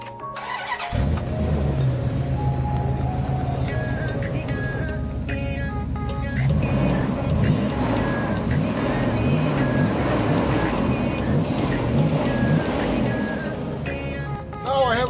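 A 1997 Dodge Dakota 5.2-liter V8 truck engine cranks briefly, catches and settles into a steady, loud idle that runs throughout, after fuel line repair.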